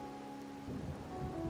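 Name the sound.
rain in Wuthering Waves video game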